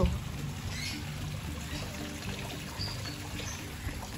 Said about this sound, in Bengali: এই জলের আওয়াজটা শুনতে পাচ্ছ